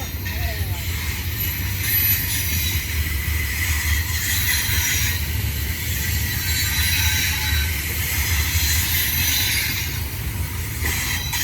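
A long Union Pacific westbound double-stack freight train rumbles past Kirkwood Station, a steady, loud roar of wheels and cars on rail with metallic squeal, continuous throughout and close by.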